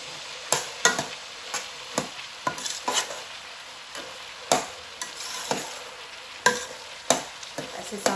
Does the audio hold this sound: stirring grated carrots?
yes